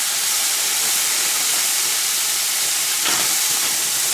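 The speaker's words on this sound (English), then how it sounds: "I'm going to saute these vegetables to get them going." Peppers, onions and mushrooms sauteing in a hot pan: a loud, continuous steamy hiss and sizzle fills the whole stretch, close up and unbroken, with no voices over it.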